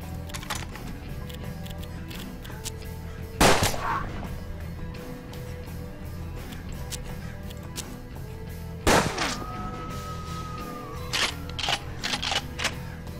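Gunfire in the turn-based Western game Hard West: two loud, isolated shots a few seconds apart ring out over a quiet ambient backdrop, each with a brief echoing tail, and a few lighter clatters come near the end.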